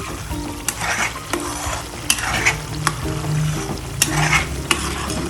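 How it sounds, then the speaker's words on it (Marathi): Homemade ghee bubbles and sizzles in a pan while it cooks, a continuous loud frying crackle punctuated by regular sharp scraping clicks of a stirring spoon roughly every second. "तूप होत आलं ना की असे वरती खूप असे बुडबुडे बुडबुडे येतात खूप"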